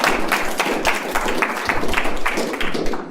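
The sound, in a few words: audience applause after a talk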